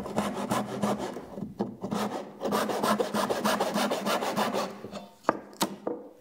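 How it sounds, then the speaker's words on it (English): A hand saw cuts off a wood shoulder held on a bench hook at a workbench, a close series of rasping back-and-forth strokes with short pauses and a few knocks near the end. "take our saw and saw off our shoulder"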